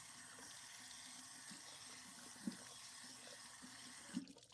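A cloth is rinsed under a running tap during stain spot cleaning. Water pours in a steady, faint, even stream, with a couple of soft splashes as the fabric is moved.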